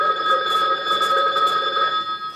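A telephone rings steadily during an IT talk in 2008, a continuous bright electronic trill with layered tones that sounds loud and close and carries on for over two seconds without speech.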